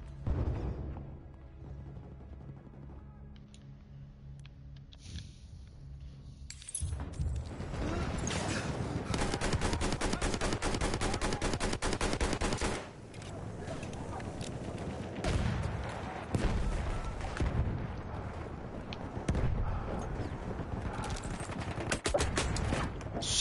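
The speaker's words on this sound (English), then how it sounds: "That's a lot of grenades." Grenade explosions and gunfire in the Battlefield 1 video game, quiet at first, then dense sustained rattling fire with heavy bursts, a brief dip, and continued loud shooting to the end.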